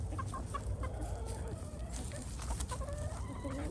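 Chickens at a chicken farm cluck in a busy chorus, with repeated short calls and a crowing-like note over steady background noise.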